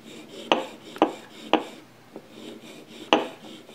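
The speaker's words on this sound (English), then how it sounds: "so I'm gonna sand only lengthwise when doing this, never going any other way" Sandpaper on a 1911 pistol's grip safety, worked lengthwise only with light pressure: a few separate close scratchy rasping strokes at an irregular pace, with quiet pauses between them.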